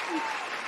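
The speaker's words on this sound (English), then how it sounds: "Can we get an applause," A pub quiz crowd applauds for a quizmaster, a brief, dense wash of clapping at moderate distance.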